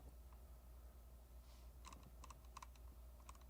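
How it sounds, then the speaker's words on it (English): Close, quiet keystrokes on a computer keyboard, in short bursts of rapid clicking over a low steady hum. "Super weird stuff I'm typing out."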